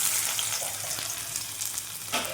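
Chopped onion hisses and sizzles steadily in hot oil for a green mung dal tadka, a close, continuous frying crackle with faint stirring and no talk.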